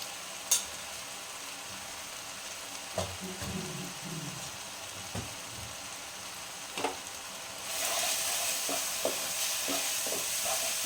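Ground Kashmiri chili, cumin and coriander powders frying and stirred in a pan for dhaba-style paneer masala: quiet spoon scrapes and clicks at first, then a louder, steady sizzle rising near the end.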